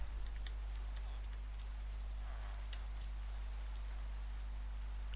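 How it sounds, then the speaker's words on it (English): Steady hiss of rain falling in the blocky survival world of Minecraft, a continuous wash with faint scattered droplet ticks over a low background hum, with no talk. "Oh, it's raining."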